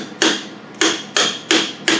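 Five sharp hammer strikes driving a dust cap into place on a trailer, at an uneven pace, each a bright metallic whack that rings off quickly, close and loud with no talking.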